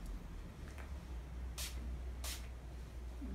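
Two short hissing bursts of Urban Decay makeup setting spray, a spray bottle misted close by, spaced apart against a quiet room with a low background hum.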